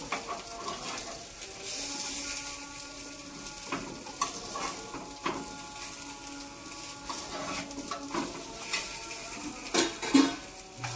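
Rava appe sizzle steadily in an appe pan while a utensil scrapes and taps against the metal as they are flipped. The clinks and stirring come close and moderately loud over a continuous frying hiss, with no one speaking.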